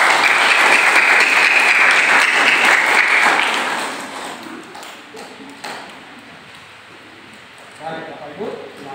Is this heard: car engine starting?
no